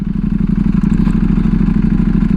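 A Ducati V4R motorcycle with an undertail exhaust runs nearby, a loud, steady, rapid engine pulse with a slight mechanical clatter and no talking.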